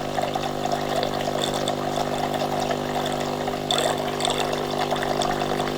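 Water runs from a Delonghi Magnifica coffee machine into a container as a steady close trickle under a constant machine hum.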